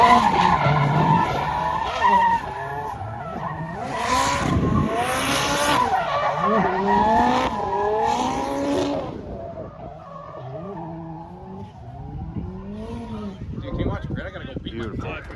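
A car on a home race track ahead of a banger demolition derby, engine roaring and tires skidding through continuous loud laps, with voices talking over the engine noise throughout.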